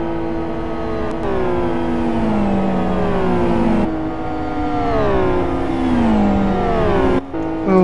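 GT1 race cars at a 2013 GT1 World Series round screaming past in a pack, engines revving high with falling and rising pitch through gear changes, loud and continuous with brief drops.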